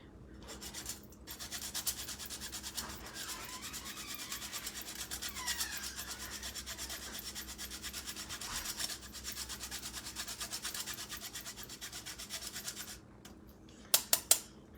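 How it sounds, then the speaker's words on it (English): A hunk of Locatelli cheese is grated by hand in a home kitchen, a steady rhythmic rasping of repeated strokes for several seconds, close and fairly quiet, ending with a few sharp knocks. "I buy it in the big hunk and I grate it myself."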